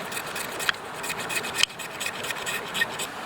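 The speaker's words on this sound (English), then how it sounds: "So now I'm scraping off some plastic here." Blade scraping plastic off a lighter to make tinder: a steady close rasping scrape with a couple of sharper scratches, fairly quiet and without speech.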